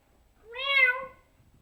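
A person's voice imitates a cat's meow, giving one clear, drawn-out rising-and-falling call, close and alone against a quiet background.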